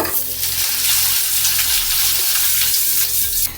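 Medium chopped onion hits a small amount of hot oil in a pan and sizzles loudly and steadily, with a low hum beneath and light stirring taps, ending abruptly.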